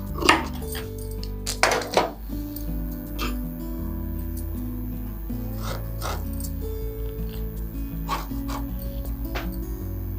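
Scissors cut away excess fabric from a boat-neck blouse, giving a run of sharp clicks and snips close by over a steady low hum, with no talking.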